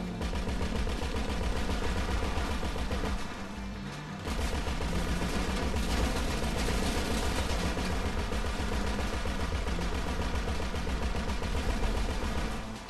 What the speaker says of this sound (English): Wait, was that you shooting?